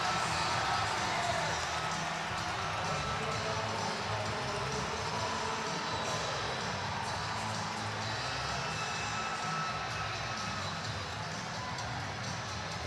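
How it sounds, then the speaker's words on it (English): A hockey arena crowd at an FPHL game between the Athens Rock Lobsters and Binghamton Black Bears roars in a sustained, distant-sounding cheer with scattered whoops, filling the space without letting up. "And listen to this crowd."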